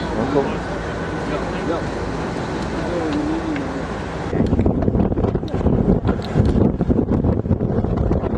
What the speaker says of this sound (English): Oh, that's windy now.